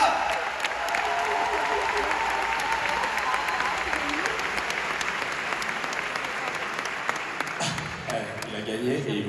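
Loud, continuous applause from a live drag show audience in Strasbourg, dense clapping with scattered sharp claps and crowd noise, tapering slightly near the end as a voice cuts in.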